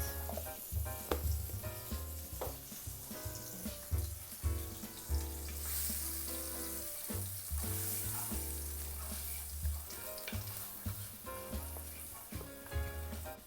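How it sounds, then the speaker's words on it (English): Butter melting in a hot pan gives a steady, moderately loud sizzle and crackle throughout, with low background music running underneath and no talking. "into the pan, I'm going to go in with some butter, and I'm just going to allow that to melt"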